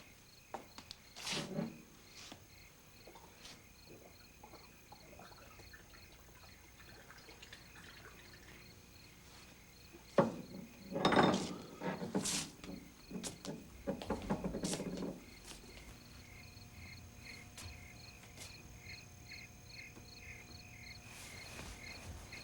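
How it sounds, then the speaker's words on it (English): Steady cricket chirping runs through the scene at low level, with a few louder intermittent rustles and knocks breaking in over the constant insect drone. "Those are the most monotonous crickets I ever heard in my life."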